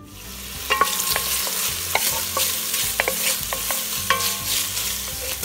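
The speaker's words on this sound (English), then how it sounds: "I'm going to start by sauteing the bacon in here and rendering all the fat." Bacon sautéing and rendering its fat in a pan for Louisiana red beans, a steady close sizzle with scattered spatter pops and occasional stirring scrapes, with no voices.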